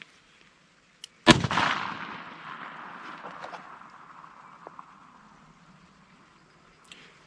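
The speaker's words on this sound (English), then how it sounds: "So I have my Smith & Wesson Model 15 loaded with Winchester White Box 38 Special 130 grain full metal jacket flat nose." A Smith & Wesson Model 15 revolver fires a single .38 Special 130-grain full metal jacket flat-nose round, one sharp loud report with a long echoing decay, preceded by a faint click.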